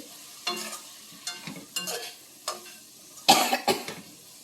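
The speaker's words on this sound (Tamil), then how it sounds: "தேங்காவை போட்டு கிளறி" Beans poriyal with grated coconut stirred in a pan, a spoon scraping in short separate strokes roughly every half second to second, with a light sizzle underneath and no talking.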